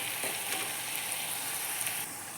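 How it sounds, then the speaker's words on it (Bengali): Onions with salt and green chillies frying in a pan, a dense, steady hiss of sizzling oil with light stirring taps, close and continuous over a couple of seconds, no talk. "পেঁয়াজটাকে আমি আরেকটু ভেজে নেব।"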